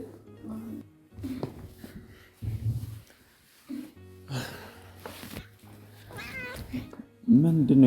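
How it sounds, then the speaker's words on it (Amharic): A black cat meows several times up close, the cries scattered among soft rustling and a few quieter stretches, while people speak nearby. "ጥቁር ድመት ደግሞ"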